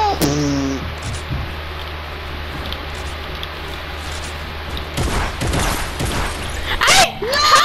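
Heavy shotgun blasts in a Fortnite fight, a few sharp loud cracks toward the end over steady rain-like game ambience, with brief voices mixed in.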